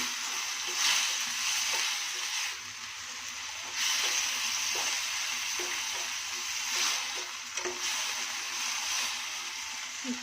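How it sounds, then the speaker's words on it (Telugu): Tomato curry with turmeric and salt being stirred in a pan: a continuous moderate sizzle with regular soft scrapes of a spoon against the pan, swelling and easing in brief waves. "పసుపు ఇలా బాగా మిక్స్ చేసుకోవాలి"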